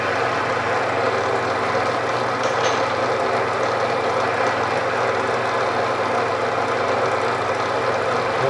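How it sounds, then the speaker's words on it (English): A milling machine runs while cutting hardened valve seats into a K series engine head, producing a loud, steady, continuous mechanical drone with no pauses and no talking. "I'm going to turn my mill on"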